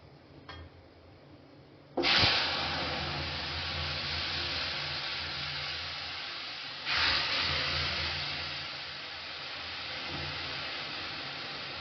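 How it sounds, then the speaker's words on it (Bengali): Lentils poured into a pan of hot spice tempering flare into a loud, sudden steamy hiss that settles into a sustained sizzle, then surges again partway through before easing off. "এর মধ্যে ডালটা আমি ঢেলে দেবো"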